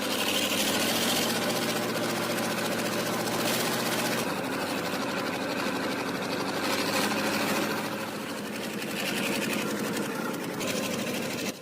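Loud, steady mechanical clatter and engine drone from the armored multi-purpose tracked technical support vehicle, running continuously with a rapid rhythmic knocking throughout.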